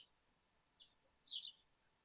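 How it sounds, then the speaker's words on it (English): Birds tweet faintly in the background of a quiet room: a tiny chirp, then a brighter, slightly longer twitter, both brief and isolated over near silence. "Somebody has birds tweeting in the background."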